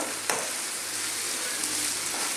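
Onions frying in a pan for a beef coconut curry, a steady broadband sizzle running the whole time with a brief stir or clatter near the start, close and fairly loud.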